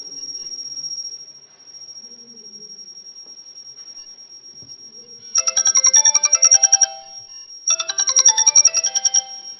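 A home robot places an alarm call to its owner, and a phone ringtone answers: a thin steady tone, then two loud bursts of rapid electronic trilling melody separated by a short pause.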